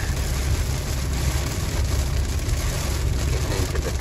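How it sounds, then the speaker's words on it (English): Heavy rain beats on a moving car during a thunderstorm, a dense steady roar over low road and engine rumble with no voices. "Getting into the thick of the rain."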